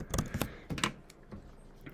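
Keys on a computer keyboard clatter in quick bursts of clicks, tapping closely and then thinning to a few scattered presses.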